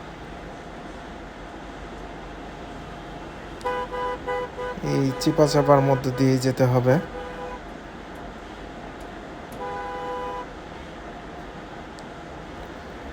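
Road traffic jammed with buses at Boat Bazar on the Dhaka–Mymensingh highway, with a cluster of loud, overlapping horn toots in the middle and a later shorter honk over steady engine rumble, while someone talks nearby.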